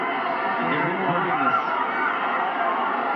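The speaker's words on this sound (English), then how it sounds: "Listen to that crowd." Boxing arena crowd at the Pacquiao vs Barrios fight, a steady dense roar of many voices filling the space, broad and continuous with no single voice standing out.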